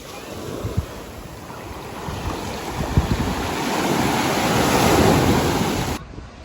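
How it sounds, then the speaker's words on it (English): Heavy ocean surf rolls and crashes continuously at Vero Beach, building to a louder surge near the end, with wind buffeting the microphone. "Also, I love how large the waves are."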